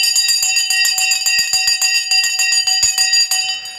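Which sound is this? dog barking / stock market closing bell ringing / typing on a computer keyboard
stock market closing bell ringing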